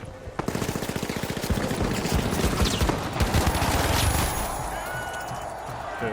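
A minigun fires in the video game The Finals, a loud, rapid, sustained burst of closely spaced shots that stutters and tapers off, with faint voices in the background.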